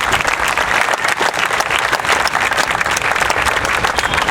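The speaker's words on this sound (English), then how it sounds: "a round of applause" Steady applause from a crowd at an outdoor 9/11 memorial ceremony at a Los Angeles fire station, dense continuous clapping of many hands held at an even level throughout, with no speech over it.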